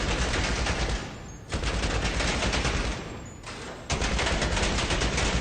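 In the GTA Online bunker shooting range, an automatic weapon with an extended clip fires long continuous bursts. The loud, dense rattling is split by two brief pauses, and there is no talking.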